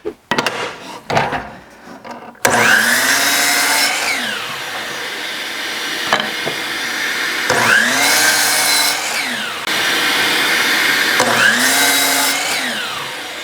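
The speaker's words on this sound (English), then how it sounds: "now I'm gonna go on the miter saw and I'm just gonna cut this down so that I know that those bottoms are flat" A miter saw cuts through scrap wood in a workshop, spinning up with a whine and biting into the board in three loud cuts, each rising and falling, after a few short rattles and a brief pause.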